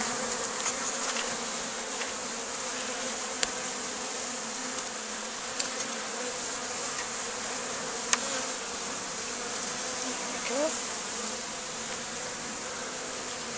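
Honey bees hum steadily around an opened hive during an inspection, a dense buzzing swarm at moderate distance with a few faint clicks and knocks from the hive frames.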